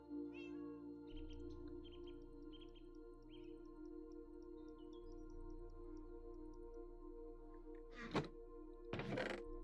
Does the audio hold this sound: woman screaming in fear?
no